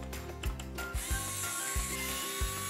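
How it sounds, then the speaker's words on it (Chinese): A screwdriver ratchets steadily as screws come out of a Desk Pi Lite case for a Raspberry Pi 4, a close, repeated clicking in regular short bursts with no voices. "很快呢我就把螺丝拆掉了"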